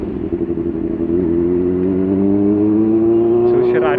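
A Benelli 600i four-cylinder superbike revving up, its engine note climbing steadily and growing louder and higher, close by, with a brief voice near the end.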